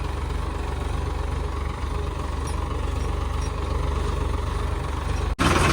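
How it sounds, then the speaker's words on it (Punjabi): A heavy tractor engine idles steadily in a potato field with a low, constant rumble, close by, then a brief knock near the end. "ਆਪਾਂ ਲੈ ਕੇ ਚੱਲੇ ਦੂਆ ਟਰੈਕਟਰ"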